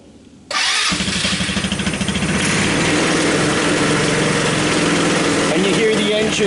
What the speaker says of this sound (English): engine running now.